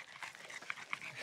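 A small dog on a hike at Murphy's Ranch pants close by, with quick, breathy huffs in a rapid rhythm and a couple of sharper catches, fairly faint.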